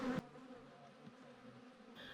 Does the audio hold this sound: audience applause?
no